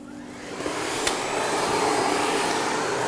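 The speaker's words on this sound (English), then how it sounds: "Once the brush is clicked into position, you can start vacuuming." A Blizzard CX1 vacuum cleaner fitted with a parquet brush runs over a hard parquet floor, a steady loud whooshing roar that swells slightly as it gets going, with a small click near the start and no talking.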